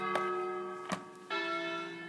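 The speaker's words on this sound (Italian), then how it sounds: "Scusate per le campane, io abito vicino al campanile, che devo fare? Ogni quarto d'ora suonano." Church bells from a nearby bell tower that chimes every quarter hour, three clear strikes in quick succession, each ringing on with long sustained tones, heard indoors with no talk.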